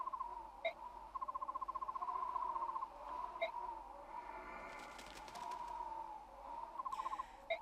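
A bird call from the Fire Emblem Radiant Dawn video game, a repeated hooting tone pulsing in short bursts against soft game music and ambience, steady and moderately loud with no talk.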